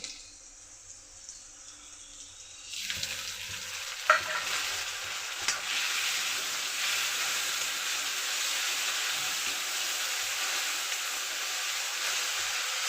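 Onion, curry leaves and tomato fry in a pan with a sudden burst of sizzling as ingredients hit the hot oil, then steady loud crackle with occasional stirring clicks, no voices.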